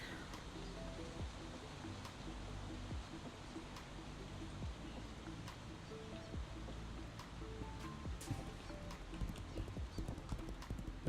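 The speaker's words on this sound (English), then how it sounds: "I think it's best to stay on my horse." Horse hooves gallop in a steady, continuous clip-clop rhythm in the video game Legends of Aria, with a rushing ambient wash underneath and no talk.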